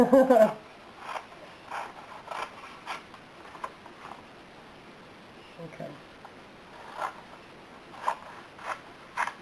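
Scissors snip through vintage magazine paper in a series of short, crisp rasping cuts at an irregular pace, close by, with a brief spoken word early on.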